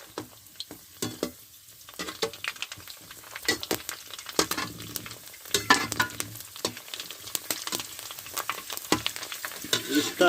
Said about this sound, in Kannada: ಇನ್ನು ಇದಕ್ಕೆ ರೆಡಿಮೇಡ್ ಪೂರಿಯನ್ನು ಹಾಕುವ. ರೆಡಿಮೇಡ್ ಪೂರಿಯನ್ನು ಹಾಕ್ತಿದ್ದೇನೆ.